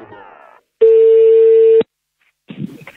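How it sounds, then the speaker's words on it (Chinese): A single steady telephone ringing tone sounds for about a second, clear and loud, with brief speech just before and after it. "咱们打这个电话 来。"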